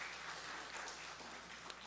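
A church congregation at a Sunday service in Oakland applauding a member back after lung cancer surgery; soft, steady clapping heard from a distance, fairly faint, with no voices over it.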